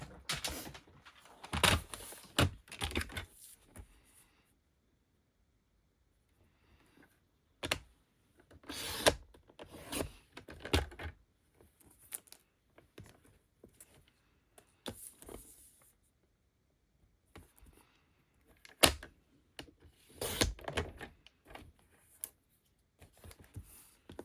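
Paper layer for a stamped card being trimmed on a craft table, giving several short bursts of cutting and sliding strokes separated by quiet pauses, close and fairly soft, with no talking.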